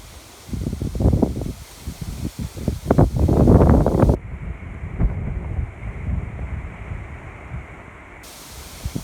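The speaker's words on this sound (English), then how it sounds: "Bit of a windy day today." Gusty wind buffets the microphone with low rumbling bursts, strongest early on, then settling into a steadier, softer blowing.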